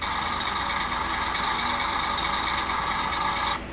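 A steady electronic engine revving effect from a Transformers Buster Optimus Prime toy truck, loud and even, running continuously before cutting off abruptly at the end.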